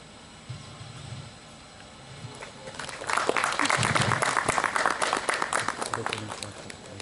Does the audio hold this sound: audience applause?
yes